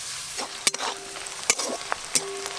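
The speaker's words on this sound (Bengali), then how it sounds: "পেঁয়াজগুলো একদম বেরেস্তার মতো লাল লাল করে ভাজার দরকার নেই, একটু হালকা করে ভেজে নিয়েছি" Chopped onions fry lightly in a pan for a chicken curry, a soft steady sizzle broken by a few sharp clicks and scrapes of stirring.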